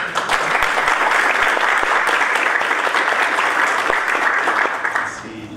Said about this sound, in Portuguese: Agora, Gigi, palmas para